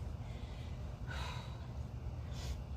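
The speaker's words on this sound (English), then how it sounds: "My nose is a little runny while we're doing this, so I'm sorry about that if I'm sniffling." Someone working out with a runny nose gives a couple of quick, soft sniffs, one mid-way and another near the end, faint against a low rumbling background.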